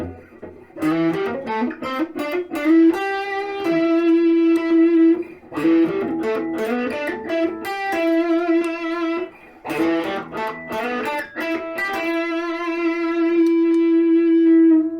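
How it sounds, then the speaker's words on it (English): Electric guitar, a Batking ELP-01, picking single notes in full humbucker mode, warm tone, clear sustained pitches in steady phrases, close and moderately loud with no talking. "We'll play some single notes now in full humbucker in all three positions."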